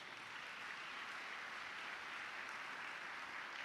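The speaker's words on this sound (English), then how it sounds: "Let's give that a round of applause." Steady applause fills a room at an awards luncheon, a dense, even wash of clapping from a large crowd, fairly faint and sustained throughout with no speech.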